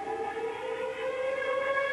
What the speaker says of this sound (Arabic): كل ما ينكسر التيم راح تسمعون هذا الونان، هذا الجرس